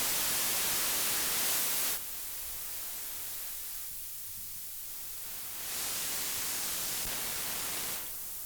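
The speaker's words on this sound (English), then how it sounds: "white noise from Max and sending it to this fuzz pedal" White noise generated in Max MSP runs through a fuzz pedal as a steady hiss, bright and full at first, then darker and thinner, swelling bright again near the end, with a faint hum underneath.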